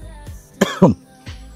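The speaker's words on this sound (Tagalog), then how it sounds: "Ubo ako eh." A couple of sharp coughs close by, with a softer throat sound before and after, no talking.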